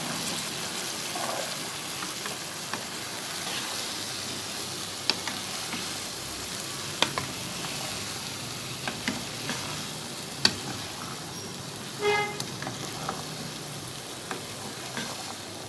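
Chickpeas frying with spices in a pan, a soft steady sizzle with light scattered clicks of stirring throughout.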